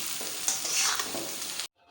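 Tinda, round Indian gourd, frying with spices in a pan, a steady close sizzle with stirring scrapes for nearly two seconds before it cuts off abruptly.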